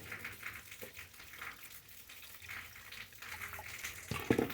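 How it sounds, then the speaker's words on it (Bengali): Water runs and splashes faintly into a mixer grinder jar being rinsed, a soft continuous trickle with small clinks near the end, heard alone. "এইখানে না একটু জল দিয়ে দেবেন"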